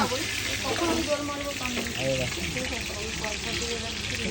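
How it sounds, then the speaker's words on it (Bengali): Whole eggs frying in hot oil in an old hotel kitchen, a steady close sizzle and crackle running throughout, with faint talking underneath. "এইভাবে গোটা ডিমগুলো ভাজা করা হয়"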